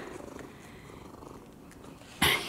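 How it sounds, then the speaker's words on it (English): A soft, rhythmic cat purr rumbles close by, faint and steady, ending with a brief sharp rustle. "He's still purring."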